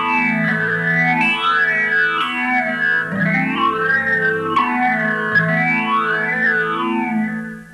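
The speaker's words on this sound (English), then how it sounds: "Now the TC phaser goes on." Electric guitar on its bright treble pickup played through a TC phaser, loud sustained chords whose tone sweeps slowly up and down in a watery, swirling cycle, repeating about three times.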